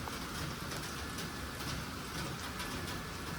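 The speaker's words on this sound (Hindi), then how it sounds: "देखो क्या मस्त बारिश हो रही है।" Steady heavy rain pours continuously on surfaces, a dense, even hiss with spattering drops close by, with no voices present.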